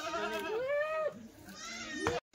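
Kathiawadi goats bleating in a farm shed: two long, wavering nasal bleats close by, the second starting near the end, with a quieter call between them and no talk over them.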